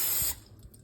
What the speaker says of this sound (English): I use this PAM olive oil spray. I'm going to spray each pan a little bit.